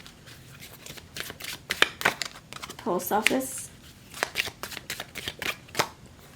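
A deck of oracle cards is shuffled in quick papery riffles and slaps, with a person talking over the shuffling throughout.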